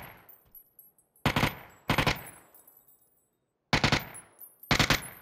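A UMP submachine gun fires in the video game PUBG in four loud, sharp bursts of rapid shots separated by short pauses, with no talking over them.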